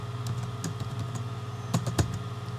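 Keys tapped on a computer keyboard while a Facebook page name is entered, a quiet run of light, irregular clicks with a couple of firmer strikes near the end, close by with no voices.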